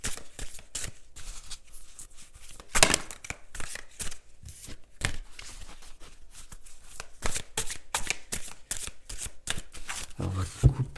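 Tarot cards being cut and shuffled by hand, a rapid series of crisp riffling and slapping bursts that repeat in irregular clusters, close and fairly loud, with a voice speaking intermittently between them.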